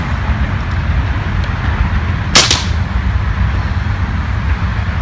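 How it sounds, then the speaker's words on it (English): Single sharp crack of an M4-style .177 caliber pellet gun shot at targets downrange, standing out once midway over a steady, noisy outdoor background. "must be an M4 177 caliber pellet gun"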